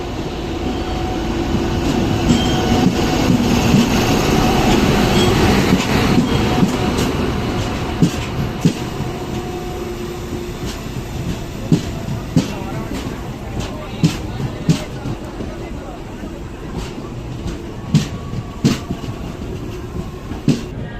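A passenger train rumbles steadily nearby on the Chennai–Tirupati line, with a heavy low roar that eases slightly partway through, and regular wheel clicks and clacks over the rails.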